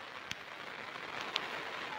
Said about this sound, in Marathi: आज पाऊस लय चालू झाला आहे